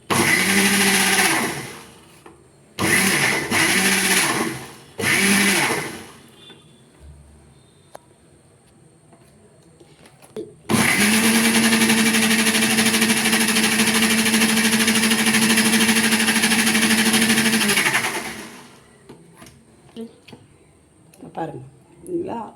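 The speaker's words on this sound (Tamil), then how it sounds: "இப்போ மிக்சியில் வெண்ணெய் வந்துருச்சாங்கிறதுக்கு உங்களுக்கு டிஃப்ரெண்ட் இந்த சவுண்ட்லேயே உங்களுக்கு டிஃப்ரென்ஸ் தெரியும்" A kitchen mixer-grinder churning cream into butter for homemade ghee whirs in three short bursts, then runs loud and steady for several seconds before stopping; its motor hum sounds close.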